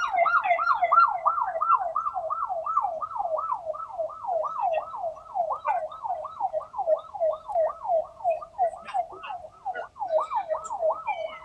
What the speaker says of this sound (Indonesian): Namun helikopter mengeluarkan sirine yang sangat kencang